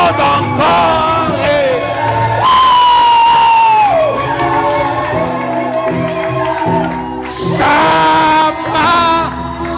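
A church congregation shouts and cheers with joy, raising loud overlapping cries, whoops and wavering yells that swell and dip in a dense, sustained wall of voices.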